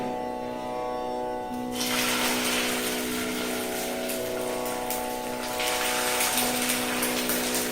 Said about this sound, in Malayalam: ഈ മിശ്രിതം കുറേശ്ശെ കോരി ഒഴിക്കും.